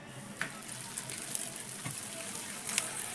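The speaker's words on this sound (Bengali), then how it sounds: "তো বন্ধুরা একইভাবে বাকিগুলো ভেজে নেব" Wheat-flour tiffin snacks fry in hot oil with a quiet, steady bubbling sizzle broken by a few sharp pops and crackles, heard alone at close range.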